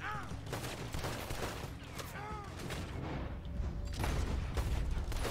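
Gunfire rings out through a Red Dead Redemption 2 shootout, with a dense, ongoing crackle of shots and reports running nonstop beneath occasional voice and game noise, swelling louder toward the end.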